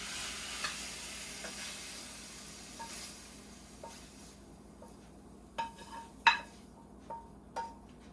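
Chicken and shrimp cook together in a hot pan for fried rice, a faint, soft sizzle broken by several sharp utensil clinks and taps toward the end.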